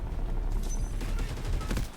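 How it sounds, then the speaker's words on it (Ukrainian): Rapid bursts of tank gunfire in the mobile shooter Delta Force crackle in a dense volley, loud and continuous, with heavy rumbling low end throughout. "А хто там з танка стріляє?"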